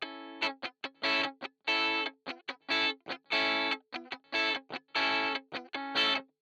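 Electric guitar strummed in a repeating soca pattern of muted scratches, an upstroke, three more mutes and a downstroke, processed with distortion and chorus effects; crisp, evenly spaced bursts with short gaps, close and alone.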